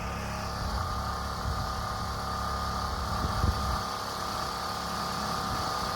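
A small engine runs steadily at a high idle, revved above normal, producing a continuous close droning hum with a brief slight surge partway through and no talking.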